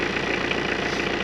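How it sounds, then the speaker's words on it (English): Tractor engine idling steadily as it warms up in freezing, snowy winter weather, a continuous mechanical rumble with a slight knocking texture, close and even throughout with no talk. "I need to let the tractor warm up."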